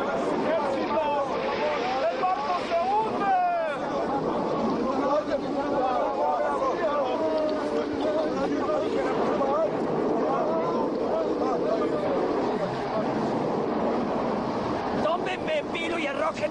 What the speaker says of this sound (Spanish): La tempestad continuaba.